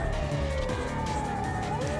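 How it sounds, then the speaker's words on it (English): A police car siren in the video game Steins;Gate 0 wails with a rising and falling tone over a low vehicle rumble, steady and fairly close. "A while later, we heard the sirens of a police car."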